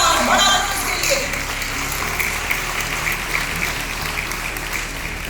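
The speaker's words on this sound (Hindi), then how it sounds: "तो जोरदार तालियां डॉक्टर विवेक बिंद्रा और बड़ा बिजनेस के लिए।" Seminar audience applauding at a large business event, a dense wash of clapping that is loudest at the start and then holds steady throughout.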